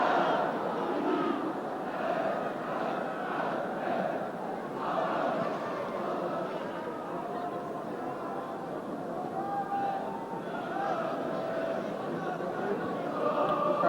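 A football crowd of about 24,000 at White Hart Lane for a European Cup Winners Cup night, a steady broad murmur and roar throughout beneath commentary.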